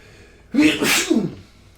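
A single loud, close sneeze bursts out after a brief quiet moment, then fades.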